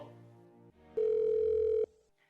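An outgoing telephone call ringing: a single steady electronic ring tone lasting just under a second, clear and close. Quieter line tones come before and after it.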